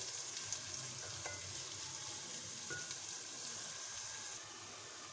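Steady sizzling of onions frying in a pan, a constant crackling hiss with occasional faint stirring clicks, close by and fairly loud.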